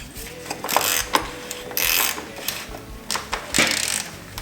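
A hand ratchet tightens the oil filter on a Toyota Tundra, giving several short bursts of rapid metallic clicking in an irregular rhythm, close and fairly loud.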